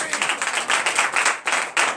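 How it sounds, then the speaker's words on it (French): Congregation clapping rhythmically during a morning prayer service in Comè, Benin, with a steady fast beat of many hands, loud and close, briefly pausing before resuming. "Donnez encore l'acclamation à Jésus."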